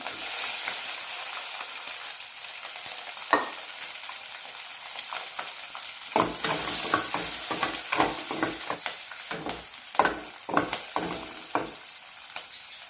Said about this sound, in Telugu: ఇదే ఆయిల్లో పచ్చిమిర్చి వేసుకొని వేగనివ్వాలి